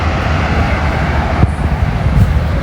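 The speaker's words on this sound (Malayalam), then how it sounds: "ഒരു ഫ്ലൈറ്റ് ടേക്ക് ഓഫ് ചെയ്യാൻ പോകുന്നതിൻ്റെ ശബ്ദമാണ് ഇപ്പോൾ കേട്ടത്." An airplane takes off, heard from inside an airport terminal as a steady, fairly loud low rumble with a broad engine roar and no talking.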